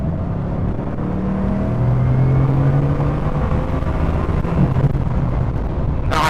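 A Bugatti Chiron speeding on a freeway makes a loud, steady close engine rumble and whir throughout, ending with a brief sharp burst of noise.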